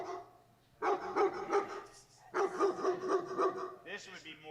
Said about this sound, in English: It's hard to even hear with dog barking